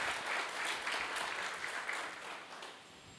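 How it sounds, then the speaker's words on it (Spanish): A church congregation applauds during a sermon, a soft, distant wash of clapping that holds steady and then slowly fades. "Vamos a darle un fuerte aplauso a Dios"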